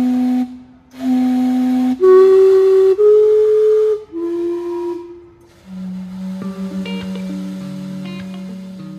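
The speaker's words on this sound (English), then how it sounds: "What you see right behind me is the steam clock. So it's pretty famous, and at 12 noon," The Gastown steam clock in Vancouver sounds its noon steam whistles, a sequence of loud sustained tones stepping through different pitches with short gaps, then overlapping chime-like notes over a softer steam hiss.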